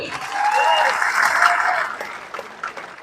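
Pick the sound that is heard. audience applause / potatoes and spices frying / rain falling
audience applause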